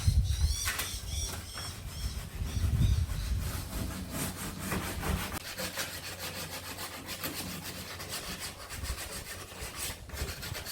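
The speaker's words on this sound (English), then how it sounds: "got it sanded down pretty good" Sanding off old paint and dried cement gives a loud, continuous rasping scrape with rhythmic back-and-forth strokes, close and unbroken for the whole stretch, with no voices.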